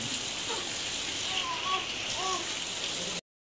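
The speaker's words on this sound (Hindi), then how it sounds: "धूप भी निकल आई और तेज बारिश भी स्टार्ट हो गई" Heavy rain in sunshine hisses steadily on surfaces nearby, with faint voices briefly audible underneath before it cuts off.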